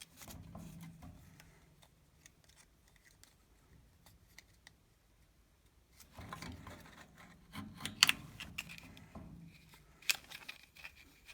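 Plastic from a shotgun shell being cut, a quiet series of close snips, clicks and scrapes, sparse at first and then busier toward the end, with no talking.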